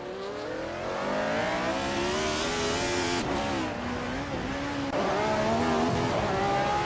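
Racing cars in a video game race, among them a 1971 RMP 160 Kia, engines droning steadily and rising in pitch through gear changes, close and continuous with no talk.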